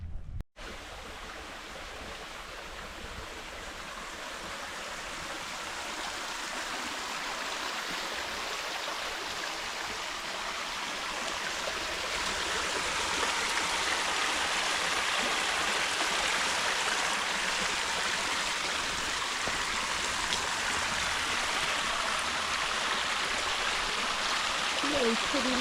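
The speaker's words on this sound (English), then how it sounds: "You can see water starting to rivulet down the other side" A steady broadband rush of running water fills the scene, near a stream flowing down a valley while rain falls, constant and gradually growing a little louder with no break.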